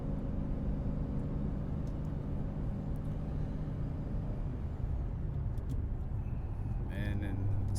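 Supercharged Dodge Challenger SRT cruising in sixth gear at about 62 mph and 1500 rpm, heard from inside the cabin as a steady, low, even engine and road drone with no revving, continuous throughout.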